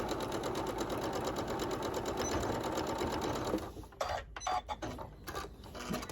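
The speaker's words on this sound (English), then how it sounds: "I'm just going to put this under our machine, and I'm going to sew this closed" A sewing machine stitches a fabric pouch closed near its edge with a rapid, steady mechanical whir that runs continuously, then slows and stops into intermittent clicks and handling noises.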